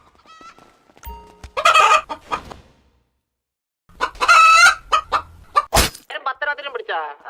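Chickens cluck and crow inside a chicken shop, loud bursts of squawking on either side of a brief quiet gap, with some voices in the background.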